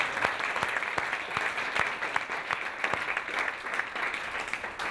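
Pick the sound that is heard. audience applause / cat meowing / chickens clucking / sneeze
audience applause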